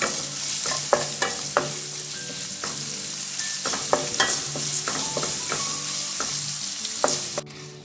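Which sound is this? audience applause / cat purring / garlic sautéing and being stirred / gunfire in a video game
garlic sautéing and being stirred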